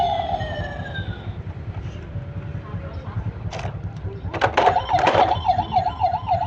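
A red toy model fire truck sounds an electronic siren, a wavering wail that turns into a quicker warble toward the end, close and moderately loud among clicks, with a voice talking nearby.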